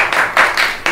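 A brief burst of applause from a small group clapping in quick, uneven bursts, loud and close, during an esports team moment after a playoff match.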